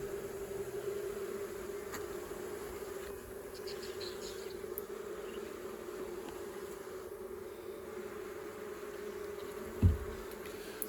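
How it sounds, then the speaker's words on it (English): Honey bees hum steadily around hives opened for a late-September inspection, a constant low drone throughout with a single soft knock near the end and no voices. "So I'm just going through these hives, inspecting them, managing them, not doing anything in particular."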